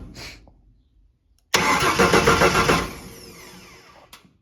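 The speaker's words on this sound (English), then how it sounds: "Hell yeah, cranks over." A Ford 300 inline-six in an older F-150 pickup turns over on a new starter, a sudden loud churning crank lasting about a second and a half before fading, after a quiet pause and a faint click.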